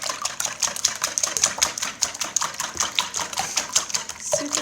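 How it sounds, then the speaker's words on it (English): Many eggs are beaten with milk in a bowl for a large batch of baked French toast: a fast, steady clicking of the whisk against the bowl that runs without pause, close and moderately loud. "I'm going to whisk these up."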